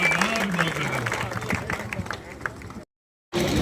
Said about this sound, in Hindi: एक जोरदार ताली, अमेरिका तक आवाज जानी चाहिए, जोरदार ताली से गांव की तरफ से स्वागत हो